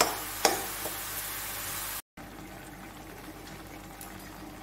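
Bottle gourd with shrimp simmers in a pot, giving a faint, steady bubbling hiss, with a brief clink near the start and a short dropout midway.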